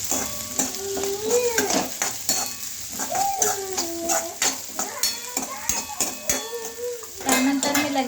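Onion and peanuts roasting in oil in a pan for poha, a continuous sizzle with repeated metal spoon scrapes and clinks against the pan, and a voice talking over the cooking.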